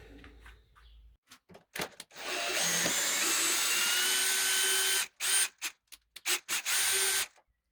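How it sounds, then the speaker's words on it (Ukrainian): Screws being backed out of a door frame with a power screwdriver, a sustained whirring run of several seconds followed by short stuttering bursts and pauses, close and clear, no talking. "Аналогічно з тієї сторони викручуємо. Викрутили шурупи"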